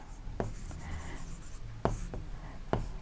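A pen writes a graph scale by hand on paper, giving soft scratching strokes broken by a few sharp taps, close and quiet, with no speech.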